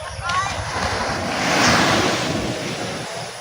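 Sea waves wash onto a beach in a steady, loud rush of surf, swelling toward the middle and easing off, with wind buffeting the microphone.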